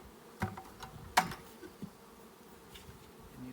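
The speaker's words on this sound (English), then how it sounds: "with the bees flying around, they can get right in that" Honeybees buzz faintly around an open hive during a package colony inspection outdoors, with a few sharper close passes near the microphone over a soft, steady background hum.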